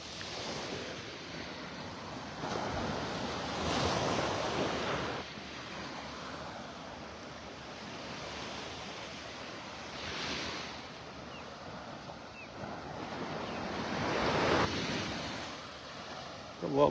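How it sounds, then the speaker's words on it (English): Ocean waves breaking on a beach in North Naples, Florida, on an early morning, a continuous washing roar that swells and ebbs in slow surges, with some wind buffeting the microphone. "The lullaby of the waves."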